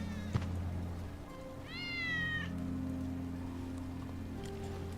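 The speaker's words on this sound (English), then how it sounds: "That's Wedge's cat." Wedge's cat in Final Fantasy 7 Remake gives a single clear, drawn-out meow over a soft bed of rain, with a steady low hum beneath.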